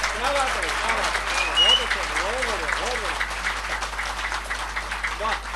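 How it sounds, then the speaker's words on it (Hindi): Listeners clap at a Hindi poetry recital (kavi sammelan), a crackling wash of applause that runs under a voice speaking over it, moderately loud and fairly even. "इतने बढ़िया आपने तालियां बजाई"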